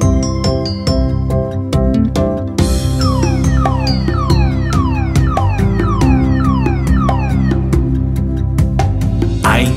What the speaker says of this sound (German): Ein Polizeiauto fährt in die Stadt.